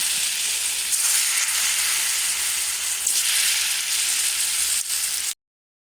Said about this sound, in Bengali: তেলটা গরম হয়ে আসলে ধোকাগুলো আমি ভেজে নেব।